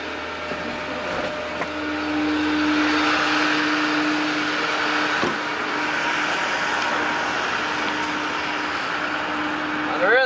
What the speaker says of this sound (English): Turn your PTO switch on, lights up red, you hear your truck rev up and your PTO is engaged.